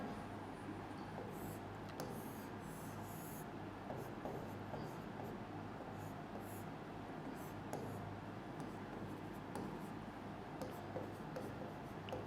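Faint, steady scratching of writing on a board during a chemistry lesson on coordination compounds, running continuously for several seconds over a low room hum, with no speech.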